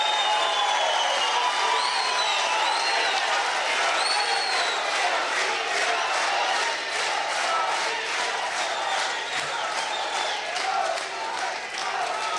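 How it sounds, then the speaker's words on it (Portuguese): A large crowd at a railway inauguration ceremony breaks into sustained, enthusiastic applause and cheering for a former mayor, a dense, steady roar of clapping filling the space throughout. "falar no Gomide é certo que nós temos aplausos efusivos"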